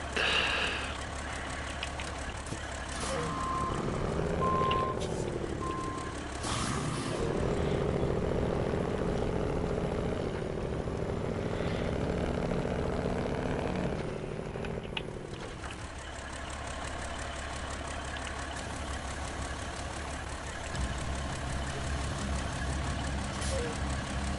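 A Kenworth truck reverses in the video game SnowRunner: a steady, loud engine drone runs throughout, with a few short reversing beeps early on.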